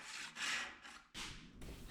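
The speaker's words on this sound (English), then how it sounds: "this dovetail saw is an Amazon special and it works like a charm after getting it sharpened up a bit." A sharpened budget dovetail saw cuts wood in a joint, giving a few close, raspy strokes with short pauses between each pass.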